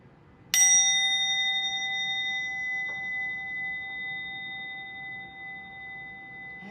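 A single clear ding of a small bell during a children's chapel service, struck once and left to ring, its bright tone slowly fading over several seconds in a quiet room.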